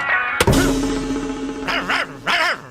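A dog barks in a comic police-station scene: a sharp single bark, then two clustered pairs of barks later, loud and close with a steady background hum and no speech.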